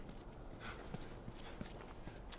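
Horse hooves clip-clop in the video game The Last of Us, a faint, evenly spaced series of soft thuds under a steady wash of ambient game noise.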